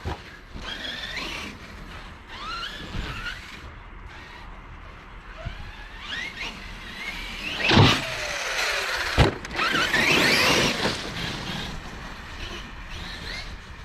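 A Team Magic V Gen Taurus RC car with a 1500kv brushless motor drives through a tight muddy space, its high motor whine rising and falling in throttle bursts, with sharp revving surges near the end.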